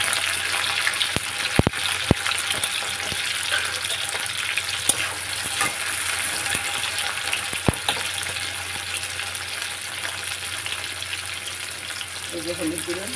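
Shrimp and onion fry steadily in hot oil, a continuous sizzle with a few sharp clicks from utensils and low talk in the background.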